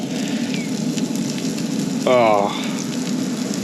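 Steady close sizzling and crackling of food cooking on a hot surface, with a brief exclamation from a voice partway through.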